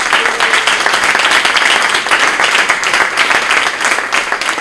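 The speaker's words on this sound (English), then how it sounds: "So let's give them a round of applause for their work." An audience applauds at a community health plan release event, with loud, dense, steady clapping of many hands that carries through the whole stretch without a break.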